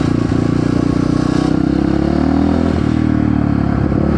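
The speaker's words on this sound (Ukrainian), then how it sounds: "Коротше, перша передача." A motorcycle with a newly replaced sprocket and chain rides in first gear, its engine droning loudly and steadily up close with slight mechanical clatter.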